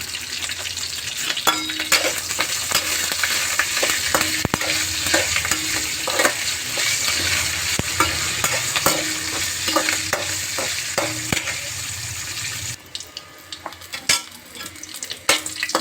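Green chilies, cumin and curry leaves frying in hot oil for a chutney, a close, steady sizzle broken by repeated scraping stirs of a spoon in the pan, ending with a few clinks and no voices.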